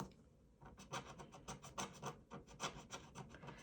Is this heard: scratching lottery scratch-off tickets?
yes